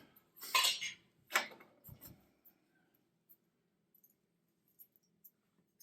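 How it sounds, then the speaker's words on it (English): A titanium cooking pot from a backpacking stove kit is handled, giving two bright metallic clanks close by, then a couple of dull knocks and a few faint scattered ticks in near silence. "the cook system consists of a titanium pot"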